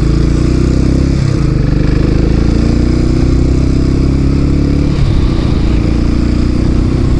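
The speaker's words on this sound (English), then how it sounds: "The engine braking on this is just phenomenal." A Royal Enfield Classic 500 single-cylinder motorcycle engine thumps loudly and steadily up close, with pitch dips around gear changes as the bike slows under engine braking.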